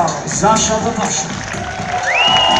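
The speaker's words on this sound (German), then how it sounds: "merci für den Applaus" Audience applause and cheering at a live concert, a steady crowd roar under a voice speaking over the clapping, with a brief whistle-like tone near the end.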